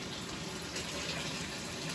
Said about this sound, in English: I pour a little more if you want